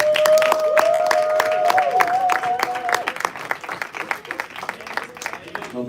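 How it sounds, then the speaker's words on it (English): A dinner event audience breaking into applause, dense rapid clapping with some cheering that swells at first and then thins into scattered claps, while a voice carries a sung or held tone over the start. "Y'all clap."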